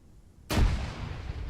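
A frag grenade explodes in a military video game with one sudden loud, close boom after a short quiet stretch, then a rumbling decay.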